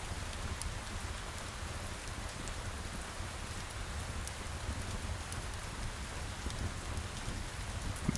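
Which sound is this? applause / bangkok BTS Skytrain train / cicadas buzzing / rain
rain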